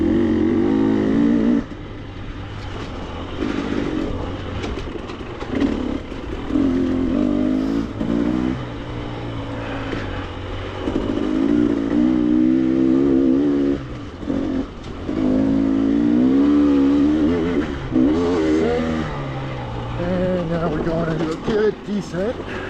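An enduro motorcycle engine hums and revs unevenly on a rocky trail descent in Colorado, rising and falling with throttle changes close by, with a rider talking over it at times.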